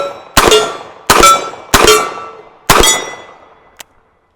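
A Taurus 627 Tracker .357 Magnum fires light loads at a steel gong 60 yards away on an outdoor range. Four loud, sharp metallic clangs ring and decay, each spaced about a second apart, followed by a faint final tick.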